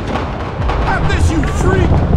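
Gunfire and artillery fire boom and crackle in an animated Five Nights at Freddy's film, a loud rumbling barrage that runs under shouting voices.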